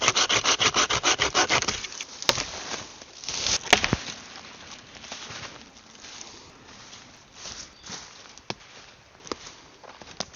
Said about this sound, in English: I'm just going to go and find some foliage and debris, lay that up along the ribs